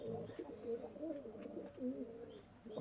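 High-flying pigeons kept for sale cooing close by, a string of low, throaty rolling coos over a quiet background.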